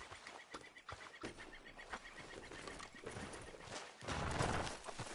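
Horse hooves clip-clop in Red Dead Redemption II, a fairly close, steady trotting rhythm over a busy outdoor ambience with bird calls mixed in, and no speech.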